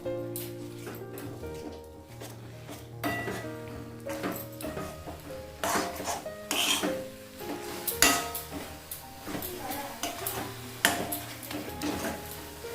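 A spoon stirs coconut kheer in a metal pot, giving scattered clinks and scrapes against the pot at an uneven pace, fairly quiet and with no talking.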